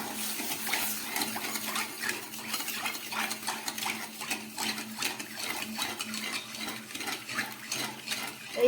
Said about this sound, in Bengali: এইভাবে অনবরত নেড়ে নেড়ে একটা শিরা আমি তৈরি করে নেব